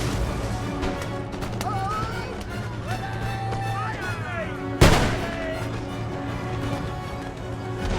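British forces in Empire: Total War exchange musket and artillery fire amid battle noise, with one sharp, loud boom standing out. Distant crackling shots and a voice run underneath.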